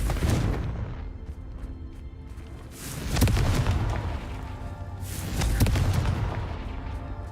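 A Confringo blasting spell from Hogwarts Legacy goes off twice in loud, booming bursts, each swelling over a rumbling low backdrop of game ambience.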